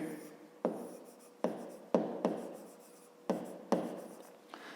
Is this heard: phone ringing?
no